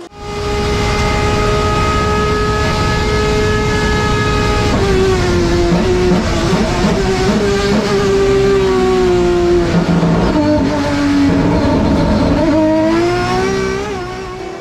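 Race car engine at a circuit braking into a chicane, downshifting from sixth to second gear, loud and close, with a sustained roar whose pitch steps down through each gear change for about fifteen seconds.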